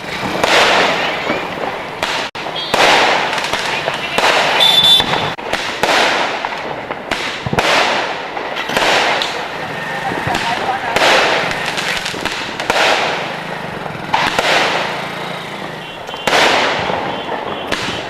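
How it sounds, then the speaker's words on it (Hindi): Diwali night fireworks and firecrackers burst again and again, loud sharp bangs and crackling pops following one another closely for the whole stretch. "दीपावली की रात आकर्षक आतिशबाजी की गई"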